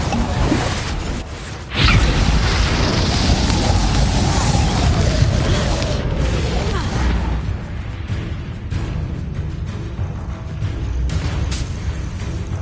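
Confringo blasting spell fired in the video game Hogwarts Legacy: a loud sudden burst followed by a long roaring rumble and a fading whoosh, with dense low booms that slowly thin out, no speech over it.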